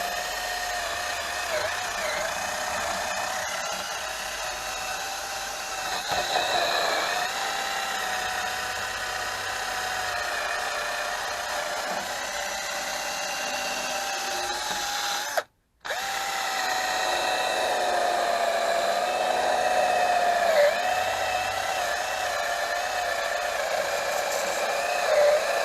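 A power tool grinds rust off the surface of a 16-inch steel car wheel rim for a Peugeot 206 HDI, a loud, steady whirring drone with slight pitch wavers and a brief cut-off midway.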